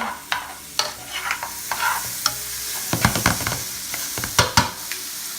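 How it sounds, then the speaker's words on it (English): Portobello mushrooms sauté in oil in a hot pan, sizzling steadily up close while a utensil stirs and scrapes, giving sharp clacks and clicks against the pan over the continuous frying. "you're gonna saute the mushrooms up to they're nice and brown"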